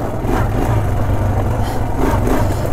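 A Honda Foreman 400 ATV engine drones under steady throttle while riding along a trail, close and continuous with a slight rise and fall in revs.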